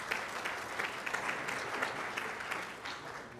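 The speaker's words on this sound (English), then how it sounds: "let's give a round of applause." An audience at a stomach cancer education symposium claps steadily in a sustained, moderately distant round of applause with no talking over it.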